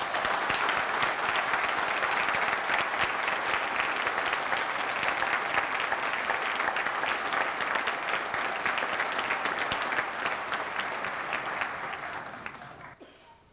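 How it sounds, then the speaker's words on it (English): Convocation audience giving the fall 1999 graduating class a round of applause: dense, loud, sustained clapping from a large crowd that holds steady for about twelve seconds, then fades away. "let's take this opportunity to give the fall class of 1999 a round of applause"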